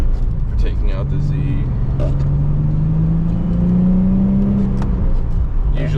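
A Nissan 350Z Nismo sports car drives along a rough back road, its engine note climbing steadily and close by while someone talks over it.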